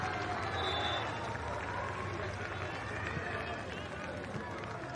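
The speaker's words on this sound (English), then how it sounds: "Gets a round of applause from his faithful Colwyn Bay fans" Colwyn Bay fans at a Welsh Cup football match applaud a substitute, a steady wash of crowd clapping and noise that lasts throughout, with a commentator talking over it.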